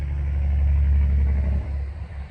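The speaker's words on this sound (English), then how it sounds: "It's a big truck coming by." A big truck rumbles past outdoors, a loud low continuous engine drone that swells and then slowly fades as it moves away.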